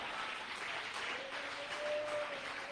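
A church congregation claps together during a Sunday morning service, a soft, steady wash of applause with a faint sustained tone beneath it.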